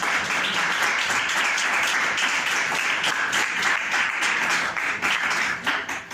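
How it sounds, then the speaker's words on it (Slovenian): Steady applause from an audience at a panel debate fills the whole stretch, a dense patter of clapping at moderate volume that thins slightly at the end. "To so mogoče en aplavz za naša dekleta."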